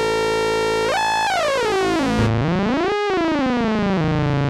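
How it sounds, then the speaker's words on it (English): Oscillator sync tones from a Novation Peak synthesizer, a bright, harmonically rich tone sweeping up and down in pitch with squelchy, tearing timbre shifts, played alone and loud without talk. "it allows you to create these kind of sync tones without having to use 2 oscillators"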